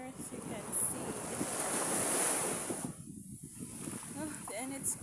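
Surf from ocean waves at a childhood beach in Bacuag, with a steady broadband wash and wind noise on the microphone, while people talk nearby.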